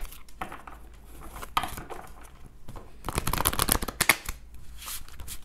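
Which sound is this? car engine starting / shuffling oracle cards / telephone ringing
shuffling oracle cards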